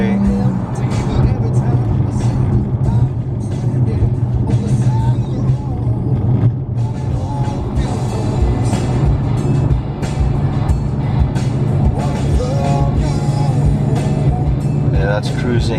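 Inside a 2016 V6 Dodge Challenger accelerating onto a freeway, a loud, steady engine drone and road roar fill the cabin continuously with a low, sustained tone.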